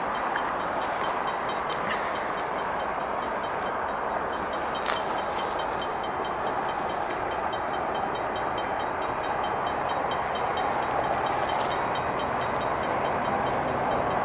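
A CN freight train heading west at a road crossing, led by locomotives 2272 and 2669 (ES44DC): continuous loud rumble and clatter of rolling cars with faint horn tones, steady throughout without talk.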